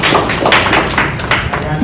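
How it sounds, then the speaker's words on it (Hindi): An audience applauds newly elected office bearers and governing council members at a felicitation ceremony, giving dense, loud, continuous clapping with no break. "उनके लिए भी जोरदार तालियां"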